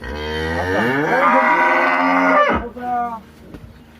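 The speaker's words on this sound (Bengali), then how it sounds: "আরে বিদেশে মানে দেখি সাইয়াল গরু এটা" A Sahiwal cow gives one long, loud, close moo that rises and then cuts off, followed by a brief softer lowing sound.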